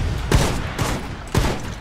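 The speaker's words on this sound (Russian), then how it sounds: "я в другого стреляю" Gunfire from the shooter game The Mean Greens - Plastic Warfare: three loud, close bursts of shots about half a second apart, each with a short reverberant tail, and no voices over them.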